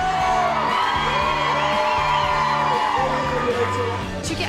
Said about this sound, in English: They're screaming, they're going mad for him.